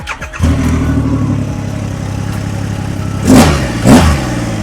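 A 2021 Triumph Rocket 3 GT three-cylinder motorcycle engine catches and settles into a smooth idle, then revs sharply twice in quick succession, loud and close.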